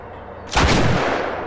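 A single powerful gunshot from a heavy weapon in the video game The Last of Us, a sudden loud blast after a quiet lead-in, followed by a long booming decay and rumbling tail.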